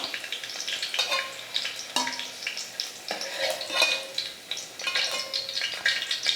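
Okra sautéing in oil in a pan for okra sambar, giving a steady close sizzle with occasional scrapes and clinks of stirring throughout, no voices.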